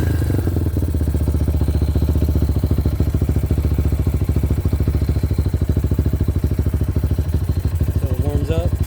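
A Honda XR150L motorcycle fitted with a 300cc big-bore kit idles close by, a steady rapid single-cylinder putter with a slightly uneven, lumpy beat that holds for the whole stretch. A brief higher whine enters near the end.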